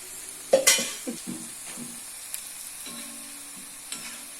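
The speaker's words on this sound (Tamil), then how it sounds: "ரெடி பண்ணி வச்ச காலிஃப்ளவரை இதோடு சேர்த்து ஃப்ரை பண்ணி எடுத்துக்கிறேன்." Cauliflower pakoda sizzles as it fries in oil with curry leaves, punctuated by a few sharp clinks and scrapes of a stirring spoon against the pan, close and steady.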